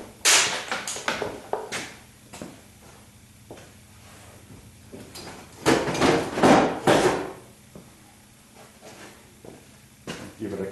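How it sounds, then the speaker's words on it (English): A hammer taps on a 1976 Corvette's drag link and steering knuckle, sharp metallic knocks scattered irregularly with a louder cluster of hits near the middle, mixed with shuffling and talk. "give it a couple little taps and see if anything happens"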